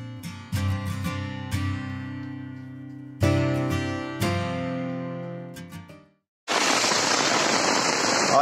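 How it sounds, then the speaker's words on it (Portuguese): Rain sweeps over a campsite at a large outdoor event in Ceará, Brazil, arriving as a loud, steady hiss during the last two seconds after several ringing, tonal knocks and a brief silence. "Olha, acampamento com chuva, ó."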